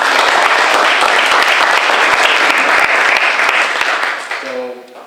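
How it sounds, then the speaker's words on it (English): Sustained applause from an audience at a high school criminal justice mock trial event in Harlingen, loud and dense throughout before tapering off at the end as a voice begins to speak. "So I want to give another round of applause for them."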